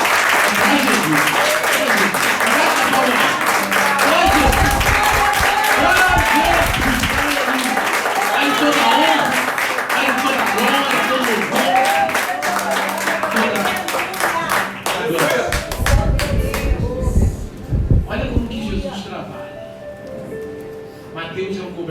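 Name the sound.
church congregation applause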